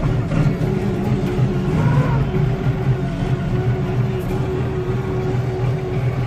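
A tractor engine, started with the throttle pushed up and the clutch held in, runs loud and close with a steady, heavy low rumble that barely changes from start to finish.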